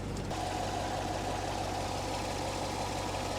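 Low-mileage Chevrolet C7 Corvette V8 idling steadily, a continuous close, even rumble with a faint knocking texture and no talk.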